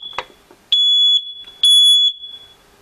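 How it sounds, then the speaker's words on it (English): Two loud, piercing electronic beeps from a smoke detector test after a battery change, each lasting about half a second, preceded by a click of handling, close and alone. "if it persists in beeping, then there's a problem with the smoke detector itself"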